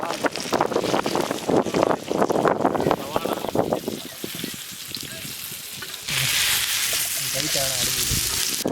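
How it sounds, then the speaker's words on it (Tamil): Ooli fish fry in hot oil in a pan at an outdoor village-style cooking setup in Madurai, giving a loud, steady sizzle. Someone talks over the first half, and wind noise hits the microphone. "மதுரை முரட்டு விருந்தில் ஊளி மீன் பொரிஞ்சுக்கிட்டு இருக்கு"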